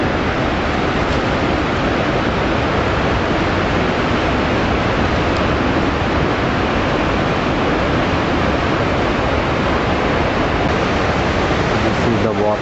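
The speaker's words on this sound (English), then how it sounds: "Niagara Falls from behind in the early morning. This is the back part where the so-called river is flowing." Water from the back of Niagara Falls flows and pours in a loud, unbroken broadband roar that holds steady throughout, with no other distinct sounds.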